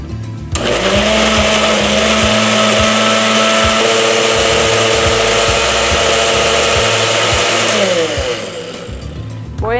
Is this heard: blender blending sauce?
yes